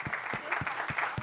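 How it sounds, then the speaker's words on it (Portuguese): Brief round of audience applause at a public policy conference session in São Paulo, a steady moderate patter of clapping hands from a modest crowd, heard fairly close. "Uma salva de palmas também."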